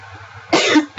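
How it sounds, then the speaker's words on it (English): A single harsh cough up close, followed by the start of another, over quiet background hum. "I'm sorry, I don't know why I'm coughing"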